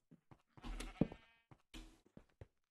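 Sheep in the game Minecraft bleat a few times, short wavering cries in separate bursts over quiet gaps, fairly faint.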